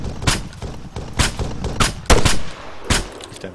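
Gunfire in the video game ARMA 3: a handful of sharp, loud shots spaced irregularly across a few seconds, each a broadband crack with a brief low thump, over a quiet background.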